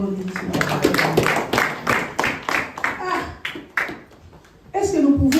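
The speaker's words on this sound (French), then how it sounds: "Est-ce que nous pouvons applaudir pour la parole du Seigneur?" A church congregation applauds together, the broad clapping rising and falling in several bursts before a brief lull and a fresh burst near the end, with voices and a child mixed in.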